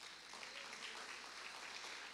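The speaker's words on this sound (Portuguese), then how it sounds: "Vamos aplaudir o Senhor, irmãos?" Faint, distant applause from a congregation during an evangelical church service, a soft continuous patter of clapping with no talking over it.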